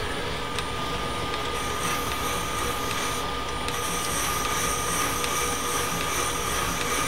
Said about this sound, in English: I'm just have the sandpaper folded over just like that, and I just started on the threads there, and just let it do its thing